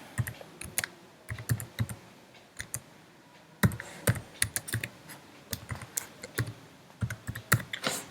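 Typing on a computer keyboard while writing Java code, close and quiet, with clusters of quick key clicks separated by short pauses.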